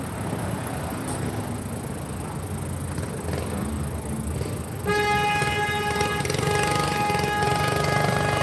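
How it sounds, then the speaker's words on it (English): Vehicle horns honk in traffic, a sustained, loud, steady blare starting midway and holding over constant road rumble and distant background noise. "Honking is all about."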